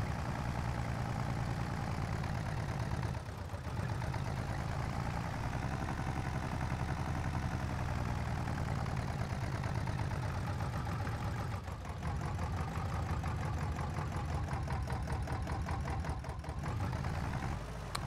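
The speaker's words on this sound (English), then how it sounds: "This might be a bit heavy for this tractor," Tractor engine in Farming Simulator 22 runs steadily at a constant drone while working a field, close and even with no talk.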